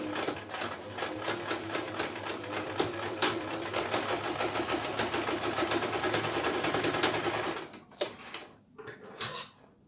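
A sewing machine runs steadily in reverse over a tote bag seam, a close, continuous rapid clatter of stitching for about eight seconds before stopping, followed by a few handling clicks.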